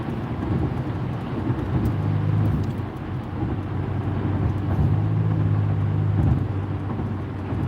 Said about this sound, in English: We're dealing with a high volume of traffic.